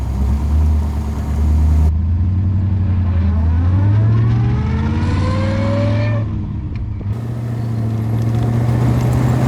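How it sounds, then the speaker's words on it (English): A 1961 Daimler SP250 Dart's V8 engine burbles loudly from inside the car, its pitch climbing as it accelerates and then falling back to a steady drone as the throttle eases. "The lovely V8 burble."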